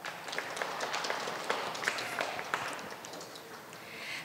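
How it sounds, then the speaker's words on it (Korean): An audience at a golf tour championship awards ceremony claps to welcome guests, a soft, steady patter of many hands heard from a distance with no talking over it. "제가 한 분 한 분 소개드릴 때마다 큰 박수로 환영해 주시기 바랍니다"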